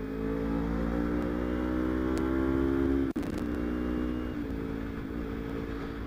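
A carbureted Kawasaki Ninja 250 motorcycle engine drones steadily while riding, its pitch climbing gradually, then a brief dropout before the engine continues at a lower, steady note.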